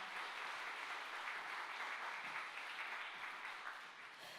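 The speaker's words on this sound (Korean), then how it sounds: "다시 한번 큰 박수 부탁드립니다" Audience applause at a 50th anniversary ceremony for Korea Zinc, a steady even clapping wash that is fairly faint and distant, sustained throughout with no talk over it.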